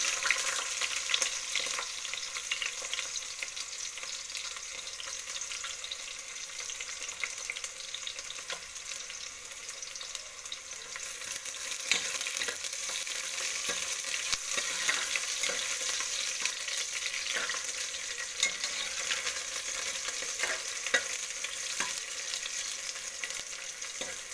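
Onion and garlic frying in a pan for a keerai soppu sambar, a steady close sizzle with scattered stirring clicks and scrapes, continuous and fairly even throughout, no voices.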